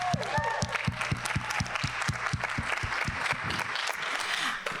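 Audience at a transfer panel event clapping together in a brisk, even rhythm of sharp hand claps over a murmur of voices, ending as the clapping fades.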